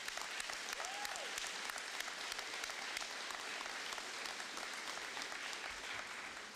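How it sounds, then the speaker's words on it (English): Applause from a middle school audience at a Veteran's Day assembly, a dense, steady roar of many hands clapping that fills the whole stretch at fairly even loudness, with a faint voice or tone briefly rising early on. "another round of applause"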